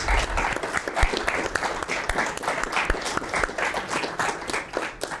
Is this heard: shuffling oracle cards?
no